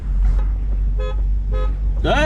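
A car horn gives short toots as the start signal for an informal street car race, two clear honks about half a second apart over a steady engine rumble, with people talking nearby.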